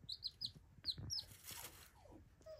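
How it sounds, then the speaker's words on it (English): Small baby chicks peep in short, high chirps, several quick calls in a row, close by, with a few soft clucks underneath from older chicks. "the older chicks are teaching the little baby how to eat"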